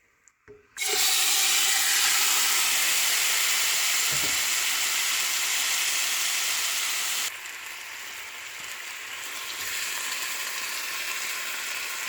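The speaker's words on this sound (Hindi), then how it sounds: "एक पैन लिया मैंने, इसमें मैं चिकन डालूंगी।" Chicken hits hot vegetable oil in a pan over a medium flame with a sudden loud burst of sizzling that holds as a dense, even hiss, then eases slightly partway through and continues alone.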